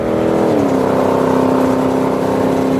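Heavy Street drag race cars idle and rev loudly at close range between qualifying rounds, a steady engine drone that dips in pitch and settles into a sustained rumble.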